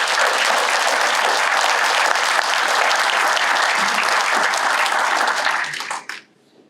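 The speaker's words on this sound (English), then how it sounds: "So I'd like to give them a round of applause again" An audience at a chamber of commerce awards ceremony applauds loudly and steadily for several seconds, the clapping thinning and fading out in the final second.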